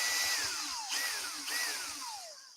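Cordless drill with a mounted chuck key spinning to remove lathe jaws, three rising and falling motor whirs in quick succession, close and fairly quiet.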